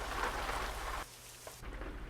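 Heavy rain in American Truck Simulator, a steady loud hiss of downpour on a truck that abruptly drops to a quieter muffled patter partway through, with no voices.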